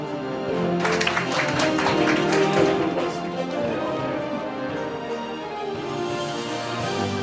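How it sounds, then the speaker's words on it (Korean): An audience at a press conference applauds to welcome a speaker, a dense, sustained patter of many hands clapping that stays fairly loud and then gradually thins out. "장내에 계신 여러분은 박수로 맞이해 주시기 바라겠습니다."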